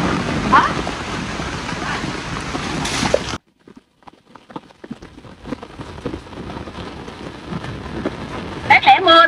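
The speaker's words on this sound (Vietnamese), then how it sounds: "Nó qua quá trời mưa giông nữa" Heavy rain pours during a passing thunderstorm in rural Vietnam, a dense close roar that cuts out abruptly, then lighter scattered drops and rumble return with faint talk.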